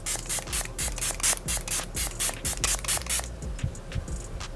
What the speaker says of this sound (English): I'm gonna go in with the Milani Make It Last Natural Setting Spray, and we're just gonna lock all this in place.